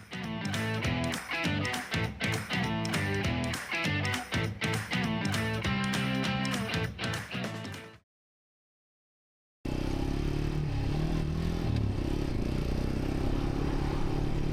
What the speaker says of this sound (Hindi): आज मैं आपको अपने हमरा पीर सुहावा लेकर आया हूँ ताकि खूबसूरत नज़ारों में बाइक पर हम राइड कर सकें